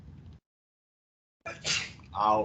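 A sneeze bursts out in a classroom during a math lesson, a short sharp sound after a brief silence, with a voice heard just before it.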